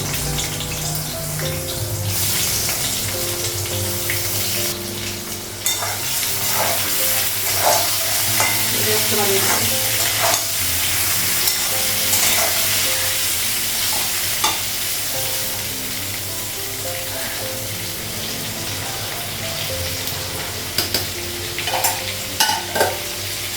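Food frying in oil after a batch of fish, a loud continuous sizzle with steady stirring, scraping and occasional clanks of a spatula against the pan, up close throughout.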